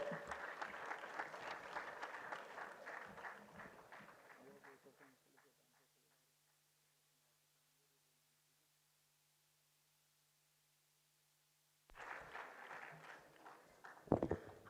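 An audience at a medical college's annual function in Bhopal applauds. The clapping fades out over several seconds into silence, and then a fresh burst of sound returns near the end.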